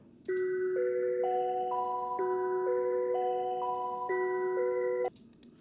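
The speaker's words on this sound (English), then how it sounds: "Then I found a synth bell and I tuned the synth bell." A tuned synth bell plays a clean melodic pattern of bright, ringing notes in a steady rhythm, stepping through overlapping pitches for about five seconds, alone and clear.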